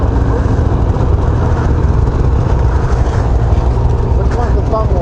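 An Arctic Cat Riot snowmobile engine idles close by, a steady, loud low rumble that holds throughout with no break.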